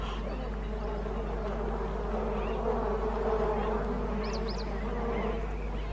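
Bees swarming at a waterhole in hot, dry wild country give a steady, faint, continuous insect buzz with no talk over it.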